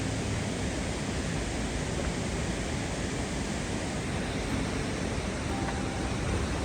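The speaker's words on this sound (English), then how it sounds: "oh, there's a little waterfall over there." Small waterfall near an old bridge on the Appalachian Trail, a constant dense rush of falling water, steady and fairly close, with no voices.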